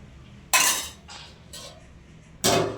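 A spoon knocks against a pot while mixing chicken biryani, making three or four sharp, separate metallic clinks and scrapes with quiet gaps between them, close by and with no speech.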